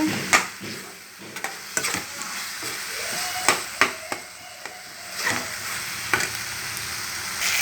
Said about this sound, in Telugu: టమాటా ముక్కలు బాగా మగ్గాలి పచ్చివాసన వాసన పోయేంత వరకు